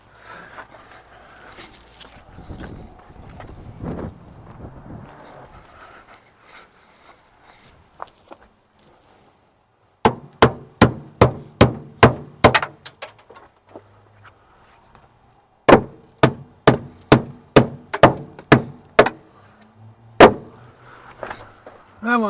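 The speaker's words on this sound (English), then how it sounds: "grab a hammer and knock them off." Hammer knocking cut bolts off a Kenworth cabover truck frame: sharp metallic strikes in quick rhythmic runs of several blows, preceded by quieter shuffling and handling noise.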